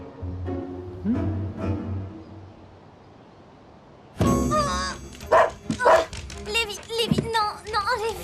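A dog named Lévi barks and yips in a lively burst of sharp, close barks with whimpering tones, mixed with a person speaking over and between them.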